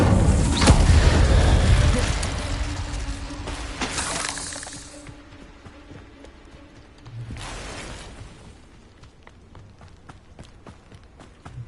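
Fire spell effects in a wizarding video game, loud crackling bursts and whooshes with a shattering burst near the start, fading, then another burst around the middle before trailing off.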